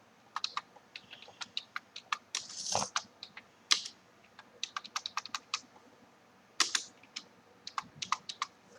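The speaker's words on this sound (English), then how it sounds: "let's try typing in" Typing on a computer keyboard while setting up a batch file, with sharp, irregular key clicks in quick bursts and short pauses, close and clear with no talking.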